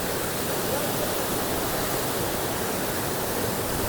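Bamni Falls in Purulia roars as a dense, even wash of falling water, steady and close with no break, where people are bathing below the cascade.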